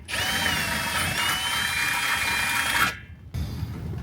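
A power drill whirs steadily at high speed for nearly three seconds, drilling holes in the rain for a solar panel install on a sailboat, stops abruptly, then a fainter outdoor background returns.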